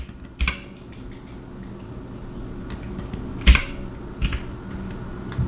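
Computer keyboard keys pressed while working in Houdini 3D software, a handful of sparse, crisp single clicks spaced a second or so apart over a quiet room hum.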